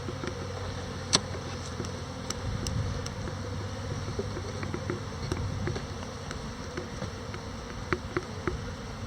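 Honeybees buzz steadily around a hive, a dense droning hum with occasional closer passes and faint clicks, no voices.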